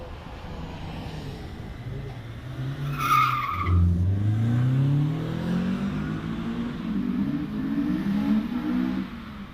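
A Renault Clio 172 Cup race car climbs the Prescott hillclimb, its engine revving up through the gears with a brief tyre squeal early on, loud and close as it passes, then holding a strained drone.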